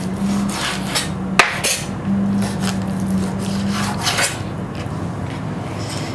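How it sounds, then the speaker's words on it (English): A knife works through bacon on a cutting board, chopping it into bite-sized pieces with repeated soft rasping strokes and one sharp knock on the board, all close up and with no talking. "now what we'll do is we'll cut our bacon"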